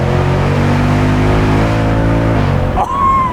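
An automatic Mustang convertible's engine revs loudly up close, a rich rising growl held for a few seconds before dropping off abruptly, leaving a brief fading whine.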